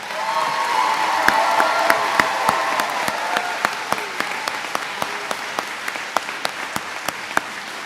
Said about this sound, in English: let's give a big round of applause to the graduating class